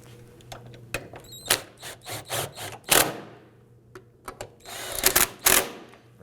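A hand ratchet or wrench snugs down bracket bolts on the fuel tank of a 2005-2009 Subaru Legacy 2.5L H4, making a series of loud, close clicking bursts in uneven rhythm.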